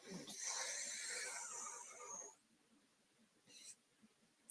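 A deep inhaled breath, a loud airy rush lasting about two seconds, followed by near silence and a few faint brief noises.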